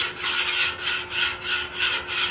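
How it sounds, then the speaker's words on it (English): Repeated rough scraping strokes of metal against a flat griddle cooking surface, cleaning off cooked-on residue, about eight rhythmic back-and-forth passes, close and fairly loud. "Right now, we're just scraping off anything that was cooked on."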